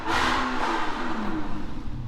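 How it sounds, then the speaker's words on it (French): An Audi R8 V8 painted in Le Mans colour revs hard up close, a loud rising engine roar with a whirring, slightly clattery edge that fades a little as it settles over about two seconds. "C'est une Audi R8 V8 couleur Le Mans,"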